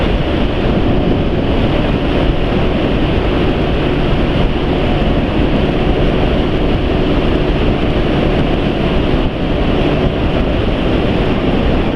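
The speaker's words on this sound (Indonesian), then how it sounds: "Ini cuma anginnya kencang banget ya." Roaring wind buffeting the microphone while riding a Yamaha NMAX scooter at around top speed, a loud, constant rushing blast with no pauses throughout.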